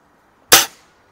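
A single sharp pop from a Crosman 766 air rifle firing a 7-grain pellet at a backyard target, close and loud with a quick decay and no talking.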